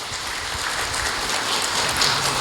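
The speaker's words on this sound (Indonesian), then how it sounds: "mohon tepuk tangan untuk Kang Rahmat" Audience applause at an indoor palm oil expo event in Indonesia, dense steady clapping from a crowd, fairly loud and continuous throughout.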